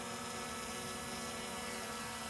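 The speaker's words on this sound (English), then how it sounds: "the last thing I wanted to talk about is how quiet this drone is" A DJI Mini 3 Pro drone with slightly longer propellers flies nearby, giving off a soft, continuous whirring hum with a steady tonal whine. It is fairly quiet and the only sound present.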